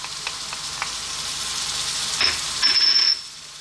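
Fresh whole chilies and garlic ginger paste frying for mattar paneer, a soft close sizzle with a few light clicks and a brief louder spit of hot oil near the end, no voices.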